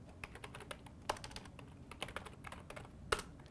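Computer keyboard typing a file name in the vi editor on Linux, with soft, quick key clicks in an irregular rhythm, close but quiet, with no talk.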